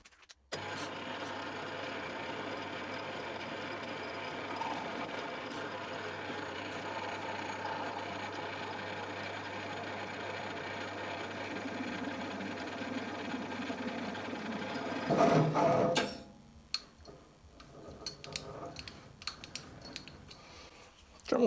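Metal lathe taking very light cuts on a Quorn Mk3 tool grinder spindle body held with a fixed steady, a quiet steady motor hum that stops about two-thirds through, followed by faint clattering and handling noises.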